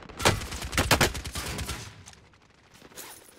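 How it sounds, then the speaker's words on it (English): Gunfire from a Call of Duty: Warzone trios match: a loud burst of several rapid shots in quick succession, followed by fainter scattered shots and game ambience trailing off. "Did you hear the shots on him?"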